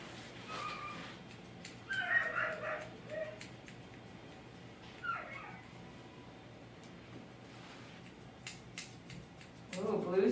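An Old English doodle barks and yips intermittently outside a grooming room, a few short distant calls spread across the stretch against quiet background and occasional clipping noises.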